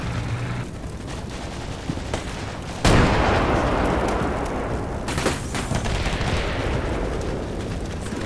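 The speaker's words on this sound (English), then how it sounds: "Grenade." A grenade bursts in the wargame Combat Mission Black Sea amid ongoing battlefield gunfire, landing as one sudden loud blast about a third of the way in, with a long rumbling tail and a second sharper crack a couple of seconds later.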